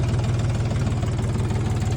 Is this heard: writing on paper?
no